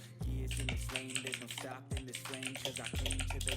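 Fingers clatter rapidly across a computer keyboard to send a chat message. The close, steady key clicks sit under a talking voice and a constant background tone.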